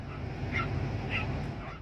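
Two dogs bark at a large Komodo dragon on muddy ground, giving a couple of faint, distant yips over a steady low rumble of background noise.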